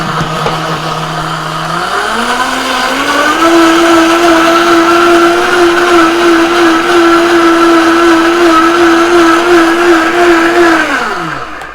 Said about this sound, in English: you're going to blend. So, and I apologize for the noise ahead of time.